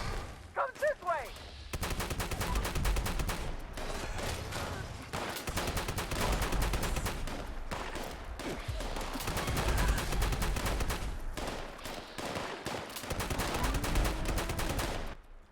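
Cold-blooded shotgun blasts in Fallout 76 during a solo fight against beasts: dense, repeated loud gunshots in rapid bursts throughout, mixed with game effects and occasional voice.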